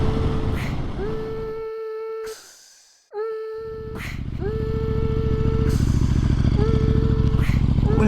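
A newly bought motorcycle's engine runs close by with a steady low drone, briefly cutting out and then restarting before settling back into a loud, even idle; a person talks over it.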